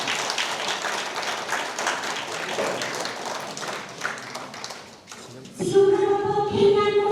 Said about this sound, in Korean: 그럼 여러분의 큰 박수로 평양꽃바다 예술단을 무대로 모시겠습니다.